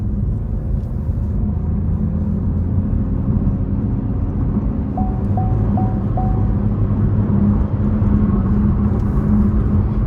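Steady, loud cabin drone from a 2024 Chevrolet TrailBlazer LT's 1.3-liter turbocharged three-cylinder under hard acceleration, a continuous low rumble with faint rising tonal chirps partway through and no speech.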